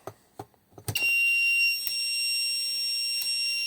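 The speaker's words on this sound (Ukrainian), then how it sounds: "Всі чотири релюшки контакти включилися і пищить." FORTE ACDR-10000 voltage stabilizer with its four relays clicking on in quick succession, then a loud continuous high-pitched beep that sounds without pause.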